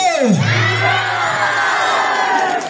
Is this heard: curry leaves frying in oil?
no